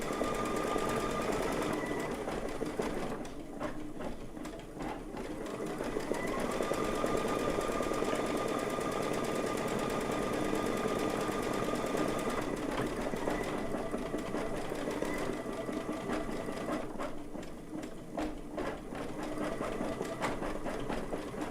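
A quilting sewing machine stitches quilt underlayment with polyester thread, running in a continuous, steady mechanical whir at moderate volume with a few brief pauses and changes in speed.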